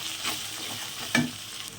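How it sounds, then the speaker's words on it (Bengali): Ground spices being stirred into bhetki fish frying in hot oil, a steady sizzle with a sharper scrape of the spatula just past the middle. "এবার আমি যে গুঁড়ো মশলাগুলো ছিল সেগুলো সব দিয়ে দেবো। এটাও দিয়ে আমি একটু কিছুক্ষণ নাড়াচাড়া করে নেব।"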